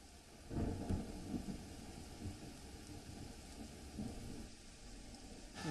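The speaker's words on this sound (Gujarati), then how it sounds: "ગાંધીનગરની અંદર વાદળછાયું વાતાવરણ બાદ વરસાદ અત્યારે વરસી રહ્યો છે" Rain falls over Gandhinagar under overcast skies as a faint, steady wash, with low rumbling swells like distant thunder rising and fading. Soft and far off, with no voices.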